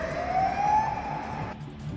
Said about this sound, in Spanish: El continuo ruido de las sirenas demuestra la gravedad.